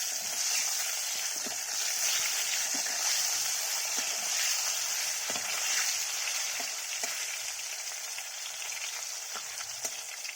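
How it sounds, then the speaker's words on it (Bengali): Chopped tomatoes sizzle and crackle steadily in a hot pan of oil while a cutlet kalia is cooked, a continuous close frying hiss with scattered pops and no talking. "হালকা ভাজা ভাজা হয়ে গেছে, টমেটোগুলো দিয়ে দিলাম"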